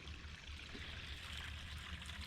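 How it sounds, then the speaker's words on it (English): A small creek trickles steadily through open plains, a constant soft wash of running water with a low rumble underneath and no other sounds. "A small creek"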